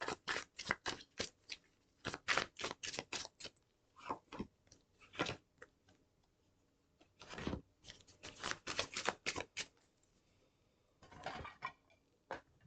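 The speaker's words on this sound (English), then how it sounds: "So you just pull out a couple more cards because I always make my readings so long." Tarot cards are shuffled and drawn from a deck in close, quiet bursts of crisp riffling and flicking, with brief pauses between handfuls.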